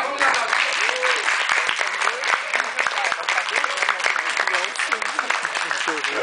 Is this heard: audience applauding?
yes